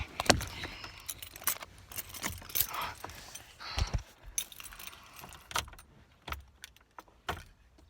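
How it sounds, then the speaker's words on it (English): Car keys jangle in a close, loud burst of repeated metallic clinks and rattles as they are worked toward the ignition of a Suzuki Savera (as stated) on an icy day, with no talk. "I'm going to try and put the keys in"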